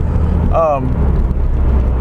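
A 2007 Subaru Impreza is driven hard through narrow back streets, its engine giving a steady, loud low drone with road noise throughout, and a brief voice breaks in near the middle.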